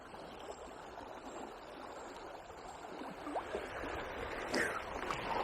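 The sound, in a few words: river water flowing fast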